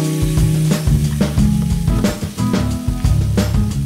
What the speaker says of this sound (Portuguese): Acabei de refogar os cogumelos.